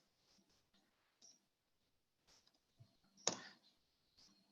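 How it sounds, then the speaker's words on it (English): Someone types a company number on a computer keyboard in a quiet room: faint, scattered key clicks with one sharper, louder tap partway through. "we'll type in the company number just to be clear."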